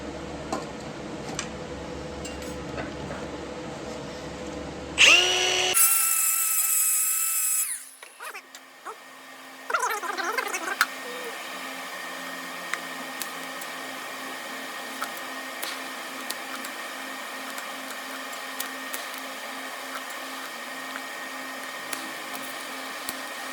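TIG welding galvanized metal that welds badly, with a loud, harsh buzzing arc burst lasting a few seconds, then a quieter sputtering stretch and faint steady background hum with small clicks.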